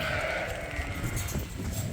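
Sheep bleat on a farm, their overlapping cries rising over a steady background of general flock noise and outdoor ambience, with no clear speech.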